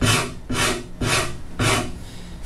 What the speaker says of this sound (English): These rasps are so fast, and so controlled that it's wonderful.